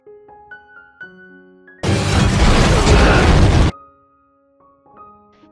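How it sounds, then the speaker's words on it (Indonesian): A big explosion in an action film bursts in loudly for about two seconds as a dense, broadband roar, set between stretches of quieter tonal score. "Andre akhirnya mengalahkan mereka dengan ledakan besar."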